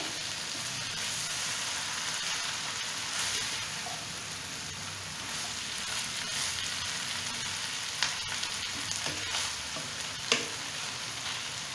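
Mixed vegetables stir-fry in a hot pan, a continuous close sizzle with scraping stirs and a couple of sharp utensil knocks, kept crisp for chicken vegetable rice.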